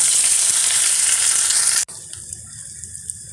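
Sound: onions, chilies and spices frying in pan

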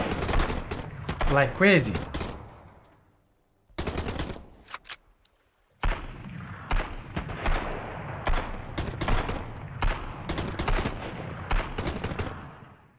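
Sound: enemy gunfire in Sunkenland video game

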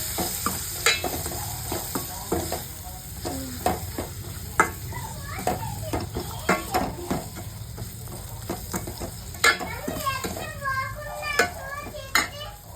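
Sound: frying chopped onions in a pan

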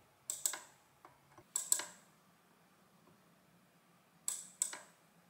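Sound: Saldorita adding machine printing, platen pressed onto type

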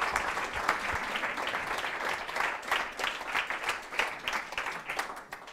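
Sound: audience applause welcoming speaker Daniel Trapitsch

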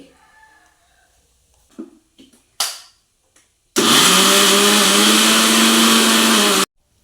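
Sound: mixer grinder grinding grated coconut

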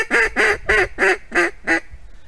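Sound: duck call imitating two ducks

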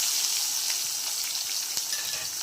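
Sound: thinly sliced onions frying in oil

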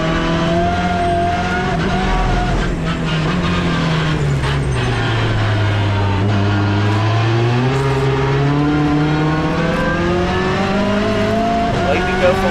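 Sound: TCR touring race car engine on track, onboard

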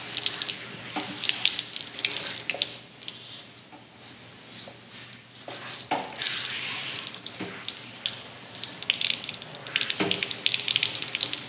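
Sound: water hose rinsing soap off a leather saddle

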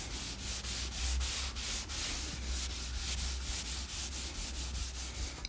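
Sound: chamois rubbing charcoal into a drawing ground

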